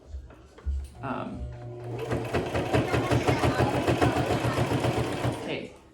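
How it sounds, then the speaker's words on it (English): A sewing machine stitches down the middle of a fabric mask, its rapid mechanical chatter running steadily and close after a few short starts and pauses. "And then I just sew back down the middle."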